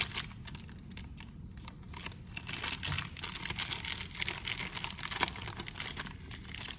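Scissors snip into a plastic piping bag in soft, close crinkling cuts, with rustling plastic throughout at low volume and no talk.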